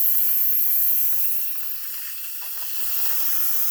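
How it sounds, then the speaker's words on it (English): Steam vents from a pressure cooker in a loud, continuous hiss that dips slightly midway before rising again, heard alone without any voices. "Let's let out the steam."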